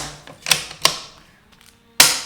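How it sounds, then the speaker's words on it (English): The bolt of a Mauser M03 switch-barrel rifle is worked, giving a few sharp metallic clacks and clicks spaced apart, close up with no talk. "each time you fire, you operate the bolt"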